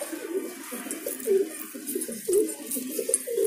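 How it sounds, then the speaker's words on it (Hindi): White pigeons at a Delhi pigeon sale coo steadily in overlapping soft phrases close by, over a constant background hum. "ये कबूतर है गाइस सारे"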